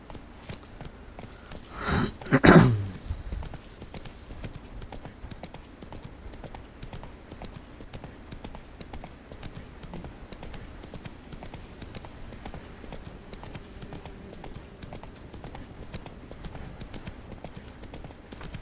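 Hooves of the horse Roach clop rhythmically in The Witcher 3, a steady soft walking beat under game ambience, with one brief louder burst like a snort or whinny near the start.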